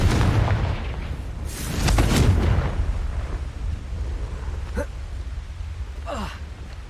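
A Confringo blasting spell goes off in Hogwarts Legacy, a burst of booming, crackling explosion sound early on that fades into a rumbling background, followed by two short whooshing bursts.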